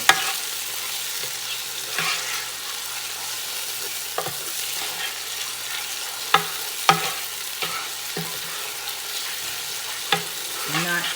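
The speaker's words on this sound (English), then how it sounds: "I'm going to just let it saute until the onions are translucent" Onions sautéing in a Ninja Possible Pro cooker, stirred with the cooker's own spoon: a continuous close sizzle broken by sharp knocks and scrapes of the spoon at irregular intervals.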